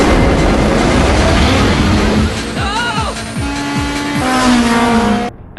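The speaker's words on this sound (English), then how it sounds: "when you wind it up after a higher RPM, you get that VTEC type of feeling" A Toyota Tacoma pickup's engine winds up to high RPM. The loud roar climbs in pitch, surges again, then cuts off abruptly.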